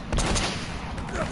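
Gunfire in the video game Uncharted 2, a burst of sharp repeated shots crackling over about a second with a busy game background.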